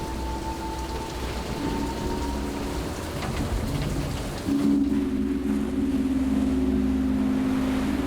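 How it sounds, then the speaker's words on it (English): Steady rain pours during a storm at sea, a dense hiss with a low rumbling wind and engine-like drone underneath and a tonal hum coming in partway through. "4 days of rain, storms, cool temperatures, and wind prevent the men from going out to sea."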